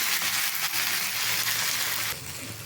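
Vegetable egg dosa sizzles steadily on a hot pan in a village-style kitchen, a continuous close frying hiss that drops slightly in level near the end, with no talk over it.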